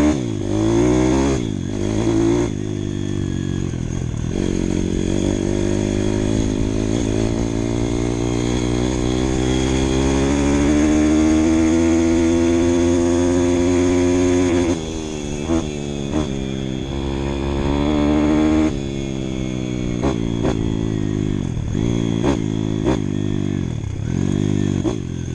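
Engine of a 2012 Peugeot CRZ 150 S scooter in poor condition, running close and loud with repeated revving that rises and falls, including a long sustained climb in the middle, with a clattering mechanical edge and no talk.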